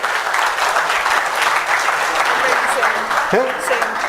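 A group of students in a motivational NLP training session breaks into steady applause, a dense even clatter of many hands lasting the whole stretch, while a voice briefly speaks near the end.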